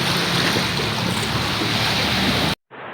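Steady broadband rush of surf and wind against a bangka boat on open water near San Victor Island, Davao Oriental, loud and continuous, cutting off abruptly near the end.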